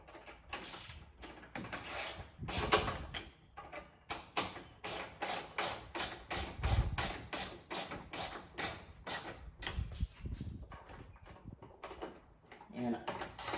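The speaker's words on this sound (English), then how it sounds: "we're going to just use a ratchet with the T25 on it" A ratchet fitted with a T25 bit tightens fasteners on an AWE AirGate carbon fiber intake in an Audi RS5, making a quick run of close, rhythmic mechanical clicks that come in short bursts and pauses.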